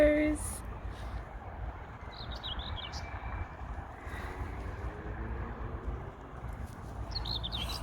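Crows call in short scattered bursts around a picnic table on a windy day, faint to moderate against steady low wind rumble.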